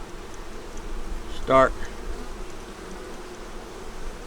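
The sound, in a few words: honey bees buzzing at hive in cold weather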